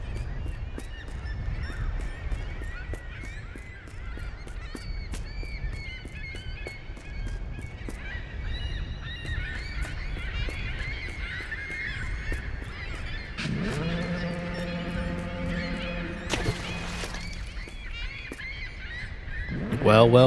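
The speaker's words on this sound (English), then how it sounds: "Again, the birds are restless." Restless birds honk and call in The Lightkeeper, a lighthouse horror game, with repeated goose-like cries over a steady ambient bed, joined near the end by a brief low rising drone and a louder burst.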